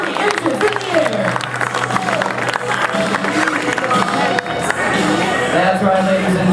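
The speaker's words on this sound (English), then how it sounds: "Let's give him a big round of applause as he goes over 240 inches in the air" Crowd at a show ski tournament cheers and claps for a sky ski front roll, a steady wash of applause and shouts filling the whole stretch, with an announcer's voice over the noise.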